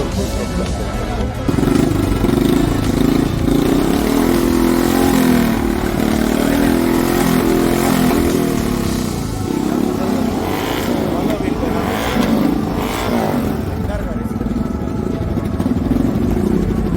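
A Royal Enfield Gorilla motorcycle engine rumbles and revs steadily amid a noisy crowd at India Bike Week 2025, with a voice talking loudly over it.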